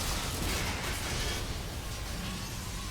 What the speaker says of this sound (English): Oh, explosion.